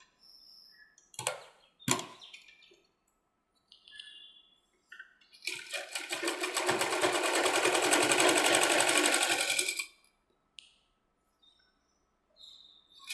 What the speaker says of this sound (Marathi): याला एक साईडने शिवून घ्यायचं पहिले, सिंगल आणि डबल फोल्ड